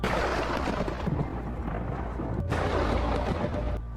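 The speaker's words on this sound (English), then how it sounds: "Curtis hears extremely loud thunder several times." Deep, rumbling thunder rolls continuously with heavy low-end booms, loud and close, with a sharp crack partway through.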